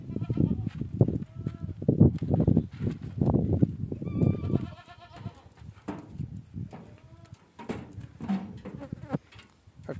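A Punjabi goat on a Jodhpur goat farm bleats repeatedly at close range, several loud bursts in the first half and quieter calls later, with faint background chatter.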